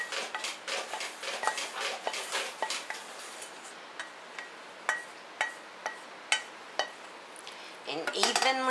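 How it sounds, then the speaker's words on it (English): Ground beef with peppers and onions being spooned into a casserole dish: a quick run of scraping and clinking at first, then sparse, sharp spoon taps against the dish, close and fairly quiet. "I'm going to put my ground beef with the peppers and the onions in the bottom of the casserole dish"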